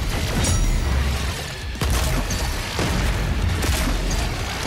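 Rocket launcher explosions in the shooter game Doom Eternal, loud booming blasts with a few sharp impacts over a constant roar of game noise.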